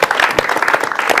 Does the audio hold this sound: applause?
yes